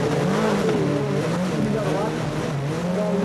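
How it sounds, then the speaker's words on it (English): Rally car engine, Peugeot 205 or Lancia Delta at the 1988 Race of Champions, revving hard down a straight and then dropping as it brakes; loud, close engine tones shifting in pitch, with a commentator talking over it. "Hear the engine screaming as he comes down that bit of the straight, and then he brakes"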